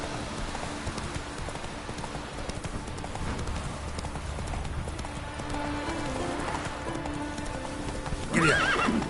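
Roach, a horse in The Witcher game, gallops with steady rapid hoofbeats over a continuous rushing background, ending with a loud whinny.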